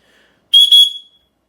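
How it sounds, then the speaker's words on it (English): A small aluminum survival whistle gives two quick, shrill, piercing blasts, very loud and close, in quiet surroundings. "Let's take it out here and give it a blow real quick."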